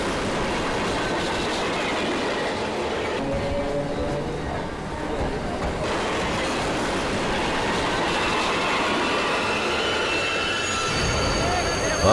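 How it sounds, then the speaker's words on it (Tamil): A train rumbles continuously with clattering wheels and a rising mechanical drone as it pulls away, with voices faintly mixed into the noise. "ட்ரெயின் கிளம்ப போகுது"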